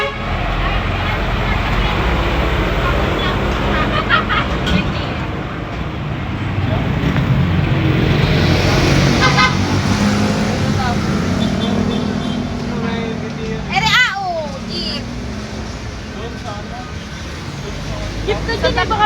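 Street traffic with a jeepney rumbling past on a Philippine road, engines and horn toots throughout, loud and close, with people talking over the noise.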